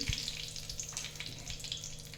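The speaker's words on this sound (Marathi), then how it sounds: "कढईमध्ये दोन चमचे तेल तापून घेतलेलं आहे त्याच्यामध्ये मी आता कढीपत्ता टाकत आहे कडीपत्ता तडतडला की" Curry leaves sizzle in hot oil in a kadai, a steady close crackling fry with small sharp pops scattered throughout, no voices.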